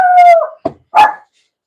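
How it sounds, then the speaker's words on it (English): A small dog barks loudly and close: a drawn-out howling yelp, then a short sharp bark, then another yip, in a quiet setting. "That little dog."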